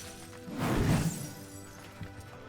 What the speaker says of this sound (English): You hear the ice sort of shattering or like falling off.